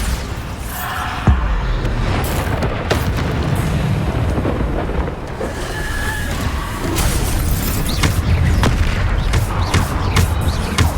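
Bombardo blasts from Hogwarts Legacy hit one after another during busy combat. Loud booms and crashing debris come in quick succession over a dense, rumbling background of battle noise.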